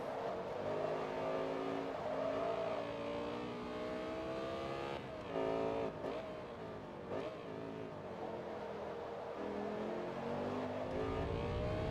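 A Lamborghini race car in Forza Motorsport 2 holds a steady, droning engine note that rises and falls through a few gear changes over twelve seconds, loud and continuous, with no talk.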